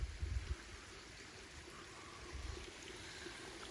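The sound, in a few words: waterfall flowing into a stream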